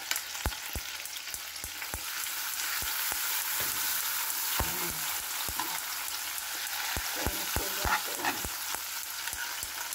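Tuna and garlic sizzle in a pan, a constant crackling fry broken by sharp scrapes and taps of a spatula stirring at a steady, unhurried pace, close and fairly quiet.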